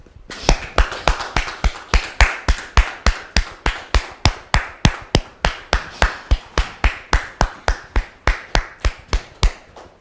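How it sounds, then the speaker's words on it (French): An audience claps in tight, rhythmic unison to welcome a guest onto a stage, around thirty sharp, evenly paced claps close by and fairly loud, with no voices. "Merci de le recevoir sous vos applaudissements."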